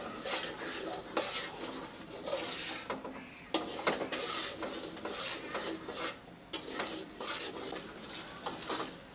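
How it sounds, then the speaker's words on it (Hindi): A spoon stirs semolina as it roasts in hot oil for halwa, making steady, close scraping and rasping strokes against the pan in an uneven rhythm. "सूजी को गोल्डन कलर आने तक इस ऑयल में भून लेंगे"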